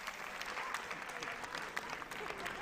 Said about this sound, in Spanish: un aplauso para Pacheco.